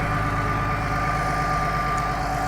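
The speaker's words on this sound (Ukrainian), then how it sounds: "тут такий тракторець" A small tractor engine idles steadily and evenly, close by, outdoors, with a constant low rumble and no voices.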